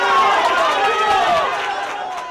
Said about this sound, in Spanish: con gritos de apoyo y aplausos.